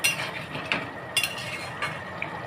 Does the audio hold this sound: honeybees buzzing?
no